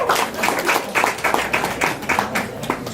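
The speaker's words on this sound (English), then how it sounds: "give a round of applause for yourself" A crowd at a cafe poetry show claps and applauds steadily, a dense patter of hands with a few louder, rhythmic claps standing out.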